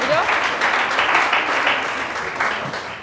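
A studio audience on a live morning TV show claps for a few seconds, a moderate, fairly even burst of hands that holds and slowly fades.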